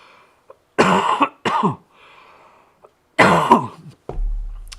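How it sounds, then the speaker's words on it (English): Two bursts of harsh coughing, each a quick cluster of hacks, loud and close, separated by a quiet pause. "I'm gonna cough again"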